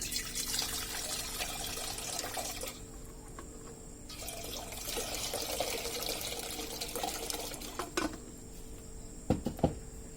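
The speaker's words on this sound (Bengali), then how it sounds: "এখন এর মধ্যে আমি পরিমাণ করে পানিটা দিয়ে নিব আগে।" Water is poured into a cooking pot on a lit stove while taler khir (palm fruit rice pudding) is prepared, a steady close splashing stream that pauses and resumes, ending with a few sharp drips and clinks.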